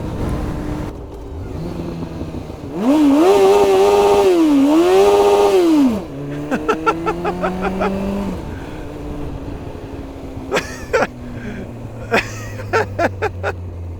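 Kawasaki ZX-9R motorcycle running on expired vegetable oil during a test ride: a loud engine rev rises and falls for a few seconds, followed by lower idling with sharp clicks and knocks.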